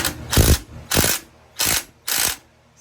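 A puller drawing an engine's harmonic balancer off the crankshaft, giving four loud, evenly spaced ratcheting bursts, each about a third of a second, with brief pauses between and no talk.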